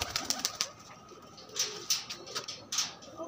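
Pigeons at a sale pen cooing in soft repeated bursts with occasional brief wing flaps, fairly close and moderately quiet, no talking.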